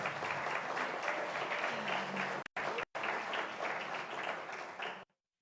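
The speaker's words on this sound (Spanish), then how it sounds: "Un aplauso, por favor, para la doctora Amazing." An audience at an academic book launch in Riobamba applauds a speaker being introduced, with sustained dense clapping that cuts out briefly twice and stops abruptly near the end.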